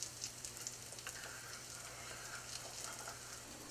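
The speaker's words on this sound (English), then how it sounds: "So I just let this simmer for a couple of minutes." Hot sauce simmering with a cinnamon stick for caramelized plantains, a quiet, even sizzle with soft bubbling pops, faint and continuous.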